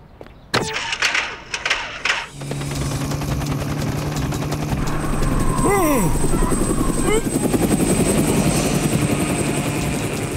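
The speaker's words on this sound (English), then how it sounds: "She's right as rain now, Pat. Like a brand new helicopter." Rapid rhythmic thudding of helicopter rotors and a whining engine, loud and close, with a few sharp bursts and clatters early on.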